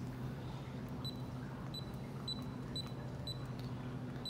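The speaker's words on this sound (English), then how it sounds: "We enter the code, the lock double beeps, and we open the door." A Dominator HS-1 electronic safe lock gives short high beeps, several evenly spaced keypad tones while the code is entered and then a quick double beep, faint over a low steady room hum.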